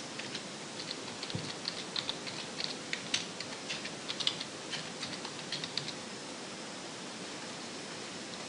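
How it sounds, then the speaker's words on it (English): Quiet, close typing on a computer keyboard: a run of light, irregular key clicks that tapers off into faint background hiss. "So I'll type in an author's name here."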